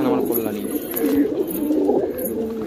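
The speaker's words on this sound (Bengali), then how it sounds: "পায়রা উড়িয়ে নিয়ে এসেছি, ভাইব্রেশন রয়েছে পায়রা হালকা, ঠিক আছে।" Several pet pigeons coo together nearby, a soft repeated throaty burbling that runs continuously for a few seconds at moderate volume.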